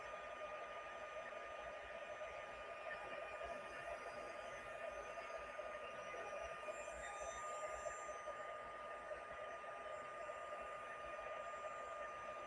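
A heat tool blowing steadily as it melts embossing powder on patterned paper, a constant airy whir with a faint electric whine, fairly quiet and unbroken throughout.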